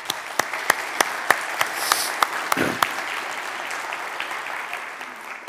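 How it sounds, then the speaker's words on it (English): Conference audience applauding its operations team: a crowd's clapping at moderate distance, with sharp individual claps popping out above the wash, fading slightly toward the end. "so I just want to give them a big round of applause"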